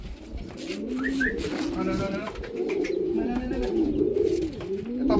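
A young bird coos in soft repeated calls outdoors, close by, among steady background noise and a person's voice talking.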